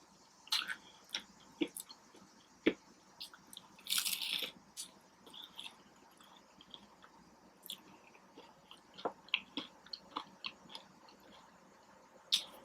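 Crispy fried catfish coated in Zatarain's Crispy Southern Fish Fry being bitten and chewed close up, irregular crunchy bites and wet mastication with a sharp crackle burst early on, no talking.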